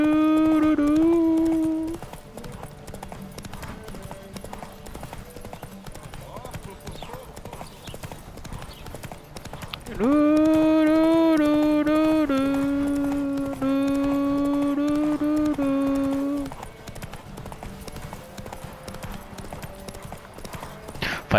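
Roach the horse's hooves clip-clop in a steady rhythm through The Witcher 3, partly masked by loud tonal music whose swells come and go, with a voice heard at moments.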